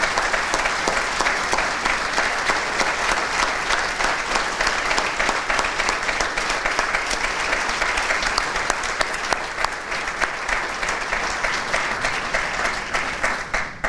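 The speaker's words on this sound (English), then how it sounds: "please give them a well-earned round of applause" Sustained applause from the audience at a city State of the City address as council members stand, a dense, even wash of clapping lasting the full length without speech.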